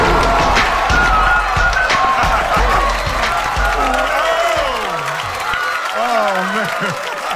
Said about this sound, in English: please give this next gentleman a warm round of applause.